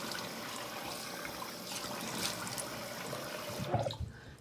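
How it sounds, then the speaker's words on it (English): Water splashes and trickles continuously as a face is rinsed of skincare cleanser at a sink, soft and close with a few louder splashes near the end. "So I'm just gonna go ahead and rinse,"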